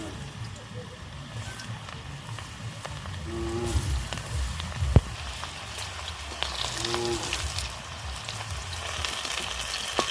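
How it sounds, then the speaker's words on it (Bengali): Okra (bhindi) fries in hot oil, a continuous, moderately loud crackling sizzle that holds steady throughout, with a few brief pops rising out of the hiss. "তেল গরম হয়ে গেছে ভেন্ডিগুলো এক এক করে আমি ভালো করে ভেজে নেব"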